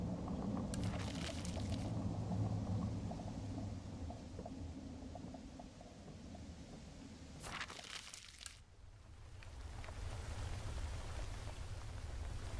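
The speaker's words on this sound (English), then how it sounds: "To top it all off, it started raining." Rain falls steadily in a forest in a video game, a soft continuous hiss with brief louder gusts, faint and alone without voices.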